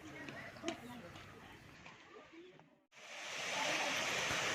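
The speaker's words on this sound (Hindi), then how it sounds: "रॉक गार्डन का ये दूसरा झरना आता है और ये झरना आके नदी में मिल जाता है" Steady rushing water from the second waterfall at the Rock Garden in Chandigarh, which flows into a man-made river, a broad continuous hiss that drops out briefly and then returns louder and closer, with a voice talking over it.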